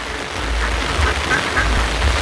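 Nine ducks quack in short bursts during morning rain in a Bangladeshi village, with steady rain hiss and low rumble underneath and no talking.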